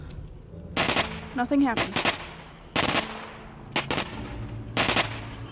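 A shotgun fired into the air in The Walking Dead: Saints & Sinners video game, several loud sharp blasts spaced across the moment, mixed with someone talking.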